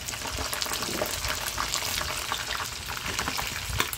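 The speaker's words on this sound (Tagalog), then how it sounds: "nagigisa tayo dito ng pangsahog natin sa pinakbet" Ingredients for pinakbet sautéing in a pan, a steady close sizzle and crackle of frying with occasional stirring scrapes, continuous throughout with no talking.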